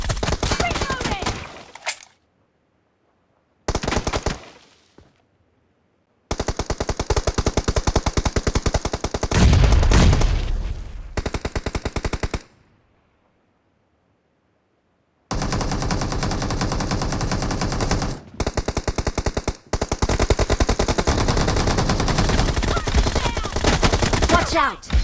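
Rapid automatic machine gun fire from a video game rattles in several loud, dense bursts of varying length, separated by abrupt silent gaps.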